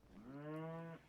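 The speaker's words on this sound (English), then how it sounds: "Something just mooed at me. I don't know if you could hear that. Must be the muffalo." A single muffalo moos in the video game Rimworld, one low drawn-out call lasting about a second, fairly quiet and alone.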